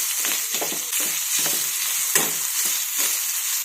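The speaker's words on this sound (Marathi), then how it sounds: "टोमॅटो आणि चिंच आपण मऊ होईपर्यंत परतून घेऊया।" Tomato and tamarind sautéing in hot oil for a masala okra dish, a steady close sizzle broken by repeated scraping stirs of a spatula against the pan, with no talking.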